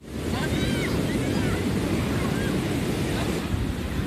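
Steady, loud roar of Atlantic surf washing onto a beach with wind buffeting the microphone, continuous throughout with no clear breaks.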